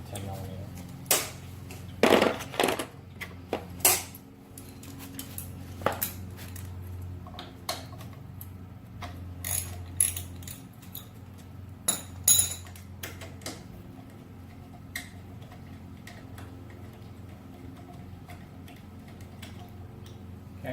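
A ratchet loosening the thermostat housing bolt on a Kawasaki Vulcan 900 motorcycle, with sparse, irregular metallic clicks and ticks scattered across a quiet workshop background, with someone talking at times.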